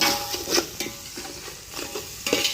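Masala with ginger garlic paste, salt, chili, garam masala and biryani powder frying in a pan gives a close, soft sizzle broken by repeated scraping stirs.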